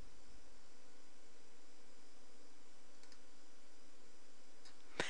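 A computer mouse clicks on a download link, producing a few faint, crisp clicks near the end over a quiet hiss of room noise, with no talking.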